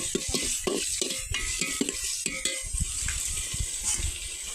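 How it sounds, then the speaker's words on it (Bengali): A spoon stirs pilau rice frying in a pan, with repeated close scrapes and clinks against the metal over a constant sizzle, no one talking. "নাড়িয়ে নিচ্ছি।"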